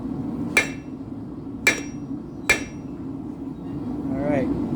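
Three sharp hammer blows ring out on hot steel held half over the edge of an anvil, spaced about a second apart, clear and close over a steady background hum, with faint soft sounds near the end.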